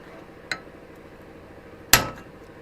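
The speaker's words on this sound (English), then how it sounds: "now we're going to take this cold chisel and smack it right there as hard as you can" A hammer strikes a cold chisel set against a Toyota 4Runner front wheel bearing. Two sharp metallic clanks ring out about a second and a half apart, the second much louder, both close over a quiet background.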